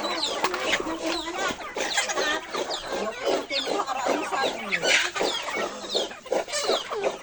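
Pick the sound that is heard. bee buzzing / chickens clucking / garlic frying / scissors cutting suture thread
chickens clucking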